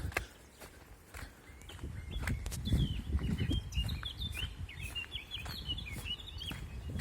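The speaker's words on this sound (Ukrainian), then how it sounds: "Гарно пташка співає." A songbird sings near a lake outside Truskavets, with repeated high chirping phrases over footsteps crunching along an outdoor path, the bird moderately distant and clear above the walking.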